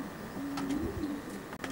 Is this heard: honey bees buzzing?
no